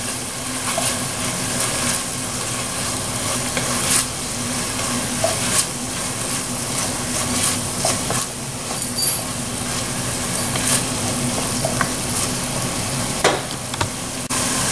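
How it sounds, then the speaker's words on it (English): Garlic and parsley get stirred into a sizzling pan of dirty rice, a loud steady sizzle broken by scraping and clinking stir strokes at irregular intervals, close up and without speech. "I'm going to stir this in here."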